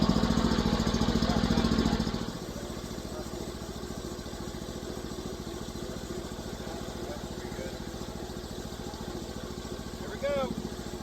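A sawmill's motor idles while warming up before cutting pine, a steady low engine drone that runs throughout, louder for the first two seconds and then settling, with a person talking over it.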